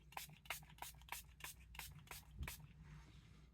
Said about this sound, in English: Take some setting spray